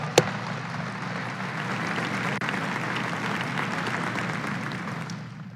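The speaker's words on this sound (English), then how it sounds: "if you just give them a round of applause." Audience applause at a basketball coach introduction press event for the Baylor Lady Bears, a sustained, even clapping from a crowd heard from a moderate distance, steady throughout without talking.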